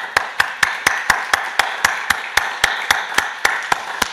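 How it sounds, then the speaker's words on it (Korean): A church congregation at a special early-morning worship service claps in a fast, even rhythm, with about sixteen crisp, sharp beats spaced evenly and close together. "우리 이를 하나님께 영광의 박수 올려드리겠습니다."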